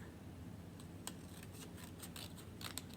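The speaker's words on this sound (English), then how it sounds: "I'm going to cut this part" Scissors snip through paper in a quiet run of short, crisp cuts, several sharp snips close together over a faint background hum.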